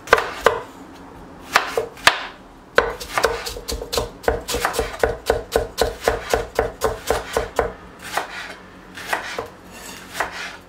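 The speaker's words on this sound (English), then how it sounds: "Then I'm going to chop the ginger." Fresh ginger is chopped with a knife on a board in bursts of rapid, sharp, close knocks, pausing briefly between runs, with no speech.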